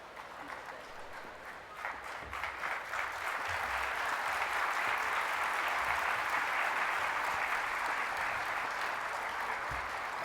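Audience at a university convocation ceremony clapping, a dense, sustained wash of applause that swells over the first few seconds and holds steady, heard from within a large hall.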